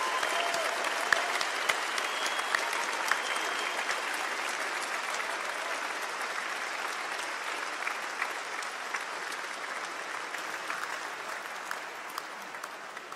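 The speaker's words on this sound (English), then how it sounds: "a round of applause to all the staff for making this a success" A graduation ceremony audience at the University of Lincoln applauds the university staff, a dense, sustained wash of clapping from a large crowd that holds steady and slowly tapers near the end.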